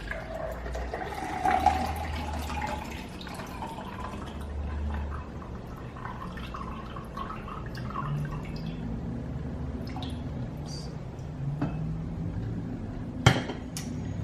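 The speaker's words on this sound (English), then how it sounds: "Just pour it on like this. And pour it in here." Liquid is poured for homemade iced coffee in a kitchen, with steady trickling and dripping, soft clinks of dishes and a sharp tap near the end, moderately close.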